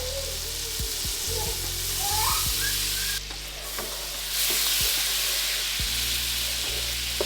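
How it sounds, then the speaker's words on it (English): A pan is being deglazed with lemon juice while making lemon chicken cutlets, giving a steady broad frying sizzle with a few brief utensil scrapes and knocks. A short hissing burst comes midway through. "This is how we're gonna deglaze the pan."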